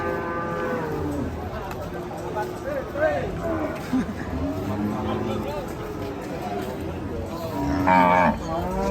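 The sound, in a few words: cattle mooing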